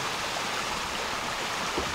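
Cold mountain stream flowing over rocks on a trail, a steady close rushing and splashing of water that fills the whole moment without talk.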